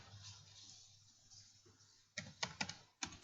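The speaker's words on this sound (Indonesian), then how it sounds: "mengetik" Typing on a computer keyboard, quiet at first, then a short burst of several close, crisp key clicks followed by one more tap after a brief pause.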